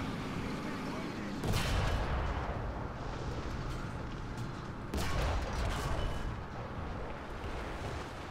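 In a tank video game, a T-35 howitzer fires twice, about three seconds apart, each a loud booming blast over constant rumbling battle noise.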